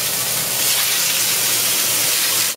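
Steady, loud sizzling hiss, like meat searing in a hot pan, continuing evenly before cutting off abruptly at the end.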